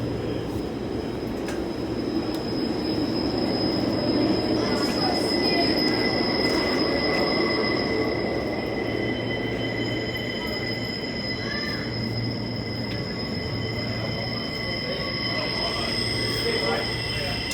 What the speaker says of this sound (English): This train runs from Perth to Butler,